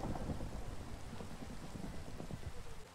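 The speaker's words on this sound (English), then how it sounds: "all of us together in the pouring rain" Steady heavy rain pours in Minecraft, a broad, continuous hiss with low rumbling underneath, the thunderstorm wash holding at an even level throughout.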